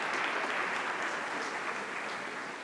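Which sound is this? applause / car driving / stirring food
applause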